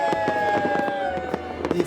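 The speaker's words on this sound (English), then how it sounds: "Such extensive fireworks in one city, I've never seen that." Christmas fireworks over a city in Greenland crackle and pop in rapid, dense bursts, continuous and fairly close, with a steady sustained tone running underneath.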